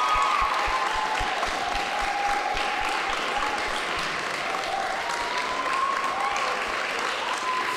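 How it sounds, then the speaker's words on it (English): Steady audience applause greets a chair and vice chair during a university students' 24-hour broadcast event, continuous and fairly loud with a low rhythmic thumping running underneath. "Just a round of applause first before I go on."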